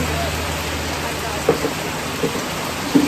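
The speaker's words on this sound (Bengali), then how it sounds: "এই বৃষ্টি বৃষ্টি" Steady rain falls in the mountains near Badrinath, an even, hissing patter with a few sharper drips, close and fairly loud for a few seconds.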